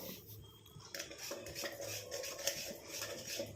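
A spoon scrapes and clinks against a pan as a natural hair dye mixture is stirred over heat, in faint, irregular strokes with no talking.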